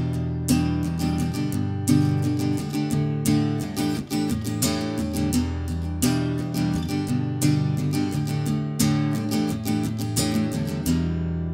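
Guitar strummed in time with a song, with the hand lifting off the strings on skipped beats, giving a steady, close, bright rhythm of crisp strokes and brief gaps across about eleven seconds with no talking.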